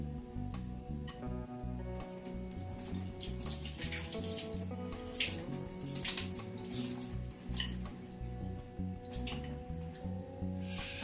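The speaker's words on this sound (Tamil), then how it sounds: "நம்ம தண்ணி ஊற்றி வச்சிடலாம்." Water pours and splashes steadily into a bowl of washed urad dal close by, a continuous running trickle with small drips and clinks.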